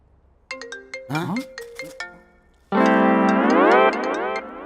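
A phone rings loudly with a melodic electronic ringtone: a few short chiming notes, then a sustained, swelling musical phrase.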